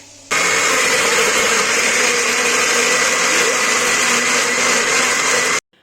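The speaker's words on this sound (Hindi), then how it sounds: "बीच में ग्रीन चिली डाल के इसको मैंने कर देना है ब्लेंड" A kitchen blender whirs loud and steady through onions, tomatoes and green chili, starting abruptly and running at a constant high-pitched drone before cutting off at the end.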